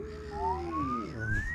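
A voice mimics a whistle: a thin, sliding tone that rises steadily in pitch over a second or so, faint and solo, set in a bedtime story filled with playful vocal effects.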